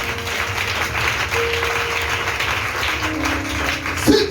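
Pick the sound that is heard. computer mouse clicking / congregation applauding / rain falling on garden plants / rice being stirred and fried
congregation applauding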